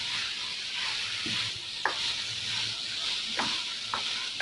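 Boiled chicken goes into cooked masala in a pan, setting off a steady close-up sizzle of frying while a spoon scrapes and stirs it in a few short strokes.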